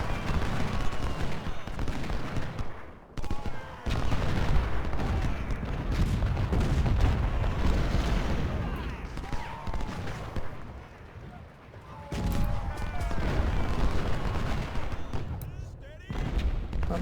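Musket volleys and artillery booms from a Civil War battle in Ultimate General Civil War, with Napoleon cannons in action: dense, rolling bursts of gunfire and heavy thuds, mostly continuous with brief lulls, while someone talks over them.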